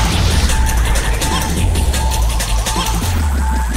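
Loud crashing impact of an attack striking a Pokémon in Pokémon Battle Revolution, a dense booming hit that rings on for several seconds.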